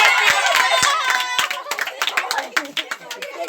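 A group of people clap at a birthday party, sharp hand claps at first over loud chatter and music, thinning out into scattered, uneven claps.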